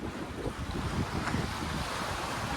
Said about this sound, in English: We don't want to overpower the boat because we're surfing down waves.